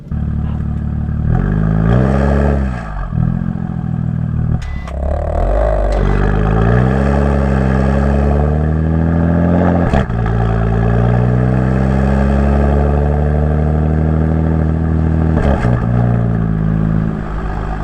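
A BMW F80 M3 Competition with an Active Autowerke equal-length mid pipe, driven cold through a neighborhood, its engine and exhaust droning steadily and loud up close, with rising and falling rev sweeps and a few sharp clattering pops.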